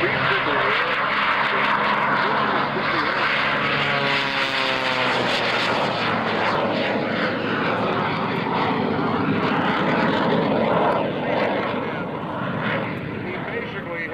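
At the 2003 Vectren Dayton Airshow, an airplane fitted with an added Learjet jet engine roars loudly and steadily as it takes off and climbs, a powerful close rush of engine noise under an announcer's voice.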